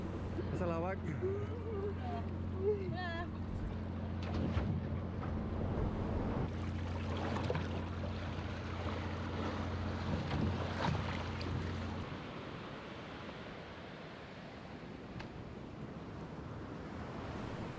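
Steady roar of ocean surf and wind washing over the microphone aboard a boat, with a voice talking and a low motor hum during the first part.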